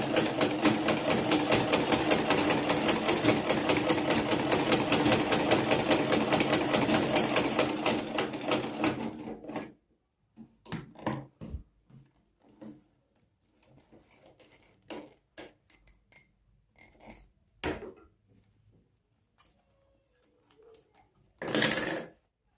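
A Butterfly sewing machine stitches fabric in a steady, fast mechanical run for about ten seconds, then falls quiet apart from scattered handling clicks and knocks.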